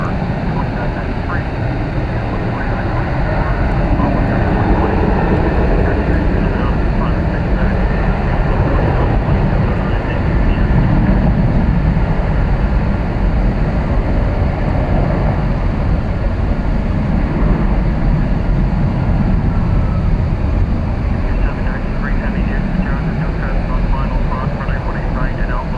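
A Boeing 737-800 departs Dallas Fort Worth, its loud, steady jet roar filling the air continuously, with a commentator talking over the engine noise.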